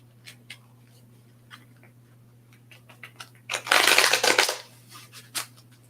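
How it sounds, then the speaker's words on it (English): Tarot cards are shuffled in a short, loud rustling burst of riffling after a few soft scattered ticks and taps, with a low steady hum underneath. "if you guys could hear me shuffle my cards like I'm Gambit from the X-Men"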